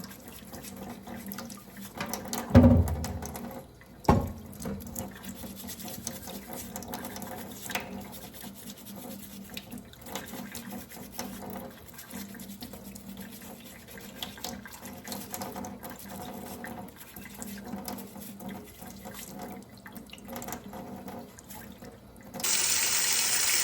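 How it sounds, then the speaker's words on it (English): Tap water runs steadily from a faucet into a sink while red beets are scrubbed clean of dirt with a brush, skin left on; a couple of brief knocks sound early on, and the flow grows louder near the end. "So nicely with your brush, just wash it off, all the dirt you could see, and leave the skin on."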